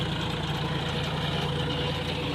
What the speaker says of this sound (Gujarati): આપણે હલાવવાનું છે ને ટ્રેક્ટર હાલેરું છે